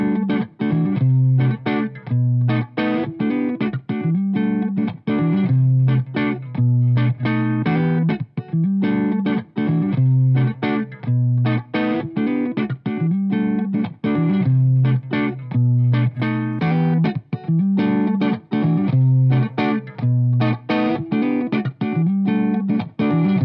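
Clean electric guitar tone played through a Celestion G12H-150 Redback speaker, with a loud, close sequence of picked notes and chords that ring out in a steady rhythm throughout, with no talking.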